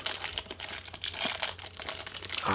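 Foil wrappers on Donruss Football 2021 trading card packs crinkle and tear steadily close up, a dense continuous rustle with no talking.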